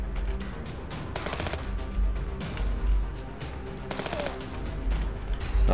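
Machine gun fire in the video game Contraband Police, rapid continuous bursts of automatic shots rattling over a busy game soundscape, fairly loud and close.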